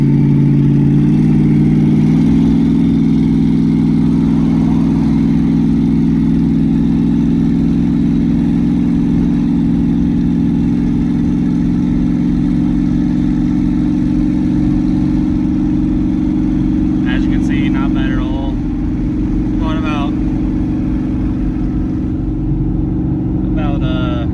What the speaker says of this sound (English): Like right now, chilling in 3rd gear, hopping on the highway.